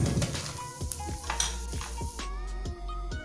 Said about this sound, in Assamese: ভালকৈ লৰাই দিলোঁ